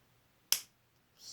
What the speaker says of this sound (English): I found my snapper. Snaps pretty loud.